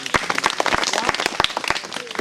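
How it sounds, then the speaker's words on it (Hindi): A small outdoor group claps in a scattered, uneven burst of hands for about two seconds, fairly close, with voices audible underneath. "तालियां बजाओ भाई।"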